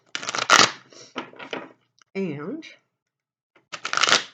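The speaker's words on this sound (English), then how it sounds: "We'll do just one or two quick shuffles." Two quick bursts of riffled playing cards shuffled close by, with a spoken word in between.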